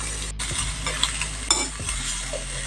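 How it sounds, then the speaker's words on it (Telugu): Grated carrot fries in oil in a pan for a flattened-rice dish, giving a steady close sizzle with a couple of scraping stirs of a spoon against the pan. "కర్రీ క్యారెట్ కొంచెం తురుము దానిలో వేగిస్తున్నాను"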